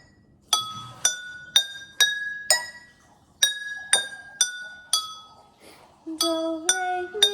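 Homemade measurable resonator bars are struck one at a time, giving about a dozen clear, ringing glassy tones in an even rhythm with short pauses. The pitches step through a scale, and the last few notes sound lower and softer.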